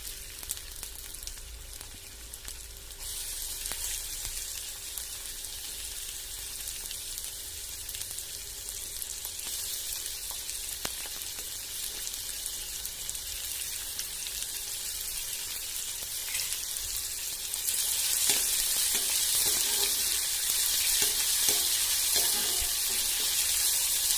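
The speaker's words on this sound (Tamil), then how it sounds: "நேரடியாக வெங்காயத்தை போட்டு வதக்கிடலாம்." Steady sizzling of onions frying in hot oil, a constant hiss that grows a little louder near the end, with no voices.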